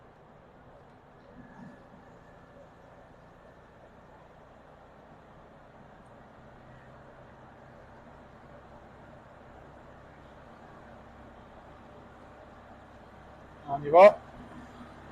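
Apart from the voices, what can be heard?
1972 Volkswagen Beetle 1200cc driving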